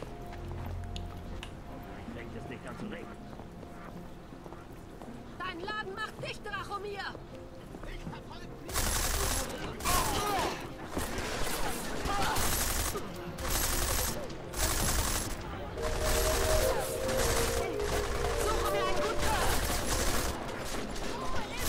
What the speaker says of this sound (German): Jetzt wird hier scharf geschossen